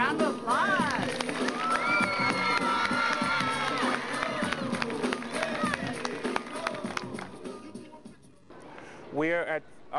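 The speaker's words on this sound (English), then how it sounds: "Let's give him a round of applause." A school assembly crowd at an elementary school cheers and claps for a record-setting basketball dribbler, children shouting loudly in a sustained roar that fades near the end.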